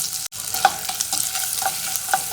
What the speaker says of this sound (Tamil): இஞ்சி பூண்டு பேஸ்ட் வந்து ஒரு வாசம் வர்ற வரைக்கும் நம்ம வதக்கிக்கலாம்